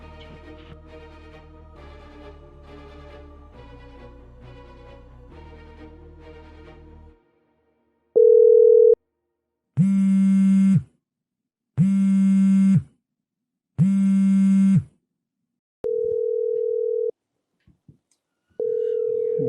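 A short tinkling melody gives way to a series of long, steady telephone tones, repeated with brief pauses between them.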